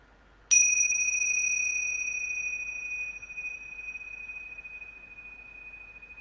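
A single bright bell is struck once, close and clear, then rings on with a pure sustained tone that slowly fades over several seconds in a quiet room.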